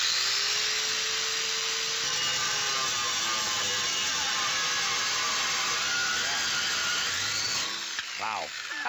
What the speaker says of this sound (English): We're going to go right through, do a little plunge cut.